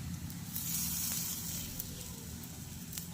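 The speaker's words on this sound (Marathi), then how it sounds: "5-5 मिनिट आपल्याला मंद गॅसवर ह्या छान भाजून घ्यायच्या आहे" Moong dal tikki shallow-frying in oil in a pan over a low gas flame, giving a steady, close sizzling hiss with a low hum beneath and no talking.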